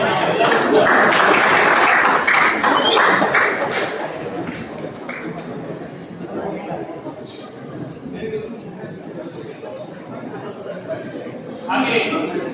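Applause from an audience at a felicitation and send-off ceremony in Dharwad, honouring a senior mathematics lecturer. Dense, steady clapping is loudest for the first few seconds, then eases into thinner scattered claps with a brief swell near the end.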